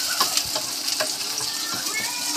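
Onions sautéing in a frying pan for bihon, a steady close sizzle and crackle of oil broken by scraping and clinking as a utensil stirs them, with no talking.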